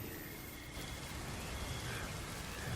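Stormy night rain in a Bengali horror cartoon forms a steady, faint wash of falling rain with a low rumbling undertone, continuous and even, with no speech.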